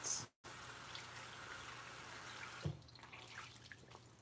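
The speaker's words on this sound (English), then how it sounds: "Time for a fresh one, so I'm just going to put warm water on it." Warm tap water runs steadily into a sink and onto a washcloth, a soft continuous hiss that briefly cuts out, then resumes more faintly and unevenly near the end.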